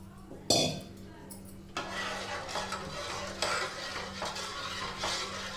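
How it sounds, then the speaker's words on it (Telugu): Karachi halwa mixture being stirred in a pan, opening with a sharp clank of the utensil, then a continuous close scraping and sizzling stir with periodic stronger strokes. "ఉండలు లేకుండా కలిపేసుకోవాలి."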